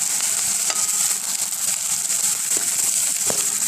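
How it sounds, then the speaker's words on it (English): Green onions dropped into hot oil for a Vietnamese roasted catfish dish, giving a steady, bright sizzle and crackle throughout with a few sharp pops, close and loud, no talking. "the oil should be hot, so let's go ahead and add the green onions. And be careful, it might splatter"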